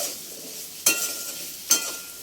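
Fried potatoes with turmeric, salt and water are stirred in a pan, with two sharp scrapes of the spoon over a soft, steady sizzle, close by and without talk.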